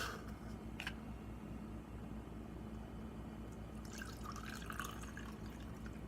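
Apple juice pours into a measuring cup as a soft, faint trickle, with a few drips early on and a bubbling fill toward the end over a low background hum.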